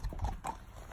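A few hoofbeats from a large pony clip-clopping on a hard surface, short and fairly faint, with no voices.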